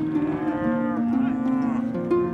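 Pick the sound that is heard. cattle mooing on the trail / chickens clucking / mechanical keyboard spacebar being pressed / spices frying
cattle mooing on the trail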